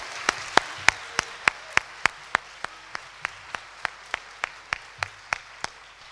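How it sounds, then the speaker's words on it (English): Slow, evenly spaced single hand claps, about three per second, sharp and fairly close, for student presenters at a school MYP certificate ceremony, sparse rather than a full crowd. "Can we have one final round of applause for our student presenters?"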